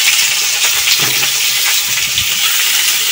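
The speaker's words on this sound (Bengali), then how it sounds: "ওই মাছের তেলেতেই আমি এই যে আলুগুলো ভেজে নিচ্ছি লাল লাল করে" Potatoes fry in fish oil in a pan, a loud, continuous sizzle close by, with a few stirring scrapes and no talking.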